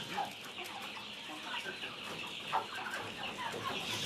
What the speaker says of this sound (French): Là, c'est les poulets.